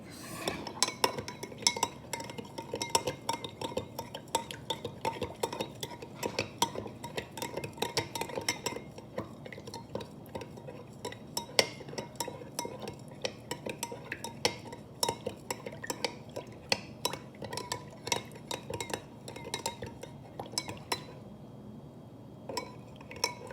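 A spoon stirring salt into a glass of water, with rapid, continuous close clinking and scraping against the glass that runs throughout and quiets briefly near the end, no voices.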